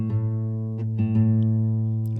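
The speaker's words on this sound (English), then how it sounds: "So I'm going to play the 6th string." Low open sixth string of a guitar plucked during tuning, ringing out steadily with clear sustained harmonics and a couple of faint touches, alone and fairly close.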